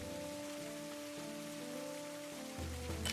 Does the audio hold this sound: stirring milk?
no